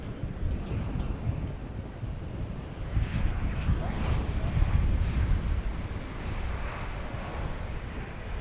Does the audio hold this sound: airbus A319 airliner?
yes